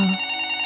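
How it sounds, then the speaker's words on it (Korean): A home landline telephone rings at dawn, a brief, steady electronic ringing tone, near and clear. "그러던 어느 날 새벽에 집 전화기가 막 울려대는 겁니다."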